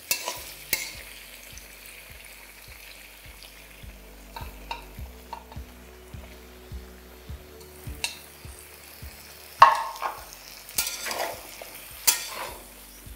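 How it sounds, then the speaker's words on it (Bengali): Pumpkin and eggplant frying in a pan give a low steady sizzle, broken by repeated scraping strokes of a spatula stirring at a regular rhythm, close and fairly quiet, with no speech. "এবার এই সব কিছুকে আপনাদের মোটামুটি 4 থেকে 5 মিনিট আরও ভেজে নিতে হবে।"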